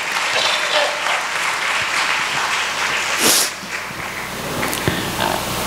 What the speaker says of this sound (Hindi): ताली बजा के परमेश्वर को धन्यवाद दीजिए।